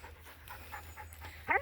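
A dog panting on the grounds of an abbey: quick, rhythmic breaths close by, ending in a short whine-like yelp.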